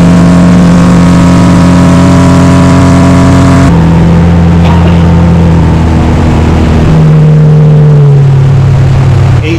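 A motorboat engine drones on a large lake, loud and close with a steady low hum, shifting pitch and load partway through as the boat moves along.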